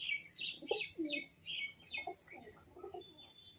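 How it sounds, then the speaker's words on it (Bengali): Pigeons restless for water coo and chirp close by in short repeated calls, with soft wing flutters, no talk. "পায়রাগুলো জল খাওয়ার জন্য খুব অস্থির"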